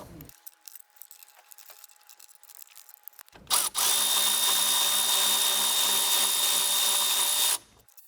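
A power driver with a magnetic bit spins out T30 bolts on the intake manifold of a MK7 Volkswagen GTI, a loud steady whir lasting about four seconds after a few faint clicks and taps.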